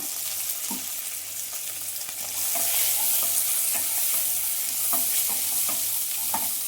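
Curry leaves and turmeric sizzling in hot oil in a pan while stirred for an aloo capsicum bath, a close steady frying hiss with rhythmic spoon scrapes and clinks, growing louder partway through.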